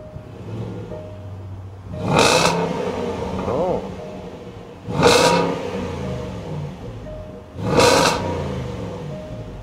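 A 2014 Range Rover Sport Supercharged engine idles, then is revved three times in a row, each blip a loud, close roar that quickly falls back to a low idle rumble.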